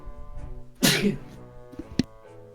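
A single sharp sneeze bursts out close by, followed by a brief lull and a quieter short sound, over a faint background murmur.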